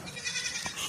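A dairy goat at a goat market gives one short, faint bleat about two-thirds of the way through, heard against steady background noise with no talking.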